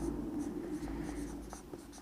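Chalk or marker writing on a board during a maths lesson on place values, with short scratchy strokes tapping out a steady rhythm close by over a continuous low room hum.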